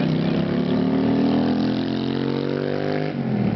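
A BMW passing on a city street, a loud, steady engine hum that rises slightly in pitch, then fades as it moves away near the end.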